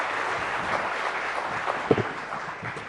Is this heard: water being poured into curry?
no